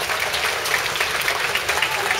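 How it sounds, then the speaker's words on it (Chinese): Dense, steady applause from a crowd greeting a Taiwanese Keelung lion dance troupe at a Chinatown Lunar New Year international lion dance championship, filling the short moment with continuous close clapping. "掌声欢迎"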